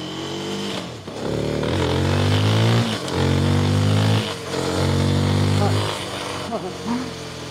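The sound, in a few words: Rieju Aventura Rally 307 motorcycle engine riding off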